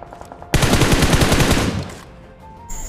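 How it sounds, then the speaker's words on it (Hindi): Rapid automatic gunfire bursts out in a battle royale game match, a dense, loud volley lasting about a second and a half before trailing off, followed by a short electronic game tone. "सामने से मेरे को फायर का साउंड आता है"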